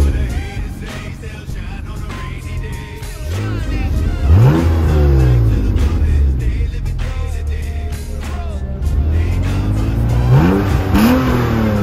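A 1998 BMW M3 five-speed coupe's engine fires up and settles into a steady idle, then is revved in several rising and falling sweeps, loud and close with no talk.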